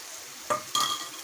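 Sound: stirring and frying fish belly pieces with onion and tomato

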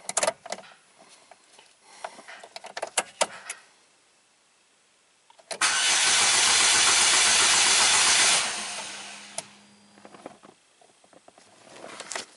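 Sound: 2009 Chevy Cobalt engine cranking and starting

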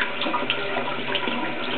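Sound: water running through shaving brush while rinsing

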